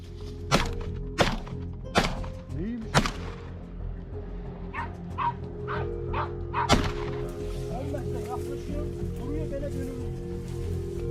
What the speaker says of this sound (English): Then the hunting dogs barked again.